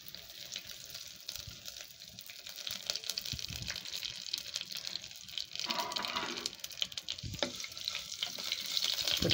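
Dried red chillies and curry leaves crackle and sizzle in hot oil for tempering rasam, a busy spitting hiss with occasional stirring clatter, fairly quiet and close.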